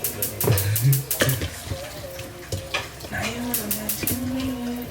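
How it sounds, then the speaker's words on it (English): Two thick steaks sizzle in butter in a hot pan with a steady crackling hiss, close up, while someone talks over it. "See those two thick ass steaks sizzling"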